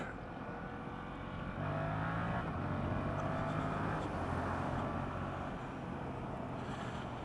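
A Yamaha MT-07 motorcycle engine drones steadily and rises in pitch as it accelerates past a truck, with heavy wind rush throughout and no talk.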